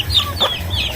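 Chickens clucking close by, a few short throaty calls over a low steady hum.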